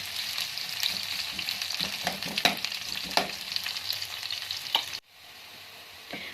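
Onions fry in hot oil in a pan, a steady close sizzle and crackle with occasional stirring scrapes, dropping sharply to a softer, quieter hiss near the end.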